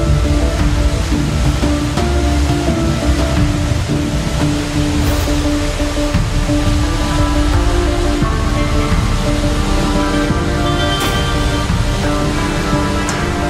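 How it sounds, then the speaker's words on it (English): A steady roar of falling water fills the air, broad and constant, as the Kaomba River plunges 80 metres down cliffs into a pool, heard from fairly close. "The Kaomba River plunges dramatically 80 metres down the cliffs."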